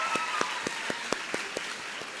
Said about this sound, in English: A big cheer to all of you from the parents.